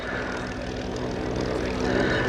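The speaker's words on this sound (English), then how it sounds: "what is essentially a 4-seat light aircraft" Propeller drone of a four-seat light aircraft passing at an air show, a steady, fairly loud engine hum holding through the whole moment with no break.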